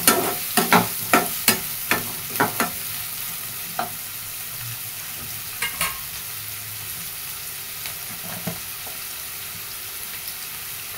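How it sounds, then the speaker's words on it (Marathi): Onions sizzling in a pan, stirred with a utensil that knocks against the pan in a run of sharp taps early on and then occasional taps, over a steady bright frying hiss. "कांदा चांगला मस्त असं गुलाबी कलर येईपर्यंत तळून घ्यायचा."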